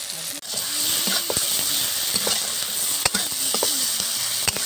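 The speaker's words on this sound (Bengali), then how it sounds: "দিয়ে ভালো করে মশলাটা আমি কষিয়ে নেব।" Spices with turmeric, coriander and cumin powder sautéing in a village kitchen pan make a steady, even hiss, with occasional soft clicks and faint background voices.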